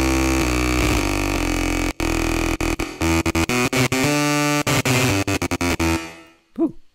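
Loud, buzzy distorted synth lead playing a rapid stuttering pattern of notes, ending in a short swooping pitch bend.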